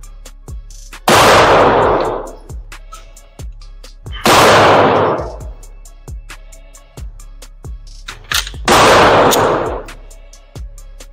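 Handgun shots ring out at an outdoor firing range during slow fundamentals practice, three loud close reports spaced a few seconds apart, each with a long decaying echo and faint distant shots between them.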